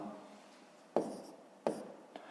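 A pen writes out a maths exercise on paper, making quiet steady scratching broken by three sharper strokes, with no talk.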